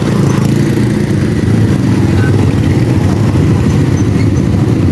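A motorcycle engine runs steadily and loudly close by, a continuous low rumble with no talking over it.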